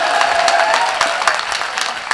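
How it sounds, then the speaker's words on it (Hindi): An audience claps steadily for a performer at a live stage show, a dense wash of many hands with a few sharper claps standing out, fairly loud and close, with a faint sustained tone beneath at the start. "एक बार ताली बजा दीजिए इनके लिए।"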